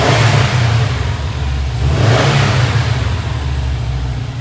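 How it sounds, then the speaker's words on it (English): Loud, close engine of a Subaru S209 blipped at the throttle, the rev rising and easing back in quick surges over a steady rumble, with no talking. "Let me give you a couple blips"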